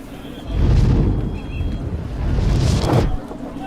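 A deep, rumbling explosion from a Hindi-dubbed film, with two broad booming swells rolling low and loud over about three seconds.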